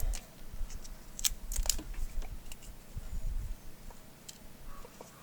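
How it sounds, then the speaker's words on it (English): Tape being pulled and pressed onto a replacement spark plug wire on a 1984 Honda TRX200 ATV, giving a series of close, crackly ripping and tapping bursts over a low hum, with no talk. "And just put some tape on here."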